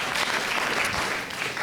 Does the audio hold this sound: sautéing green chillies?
no